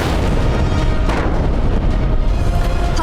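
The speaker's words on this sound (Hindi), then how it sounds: "हाकिम खान ने मुगलों के तोपों से मुगलों पे ही गोले बरसाए" Mughal cannons fire shells in a battle, heard as dense, rumbling booms layered over continuous loud roar, with a sharper blast about a second in.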